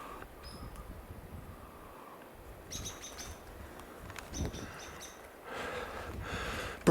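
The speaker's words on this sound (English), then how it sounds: "Birds everywhere." Birds chirp and tweet in a forest with short, bright repeated calls. Several bursts come close together over a quiet background, with some rustling and a louder rush toward the end.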